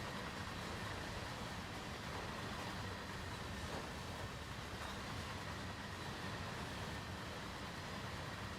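A steady, faint rumble of a rolling BNSF freight train hauled by an ES44C4 locomotive in Train Sim World 3, running between Victorville and San Bernardino in the rain, continuous and even throughout, with no talking.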